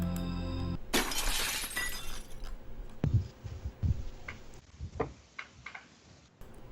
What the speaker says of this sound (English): you hear the overwhelming sound similar to like glass shattering.